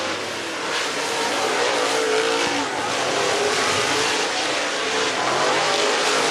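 Super late model race cars roar steadily around Talladega Short Track during hot laps, a loud continuous engine drone that swells as cars pass close by.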